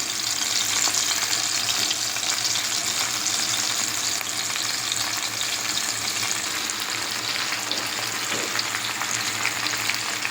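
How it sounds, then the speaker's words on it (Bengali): Fish frying in mustard oil on a low flame: a steady, dense sizzle and crackle continuing evenly throughout, close and alone, with no voices. "চুলাটা ডিম করে দিয়ে মাছটা ফ্রাই করতে হবে।"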